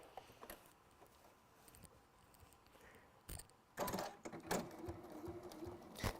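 A sewing machine stitches down fabric with a 1/4 inch seam allowance, its motor whirring in short bursts that grow louder and busier toward the end, with mechanical clicks in between and no talking.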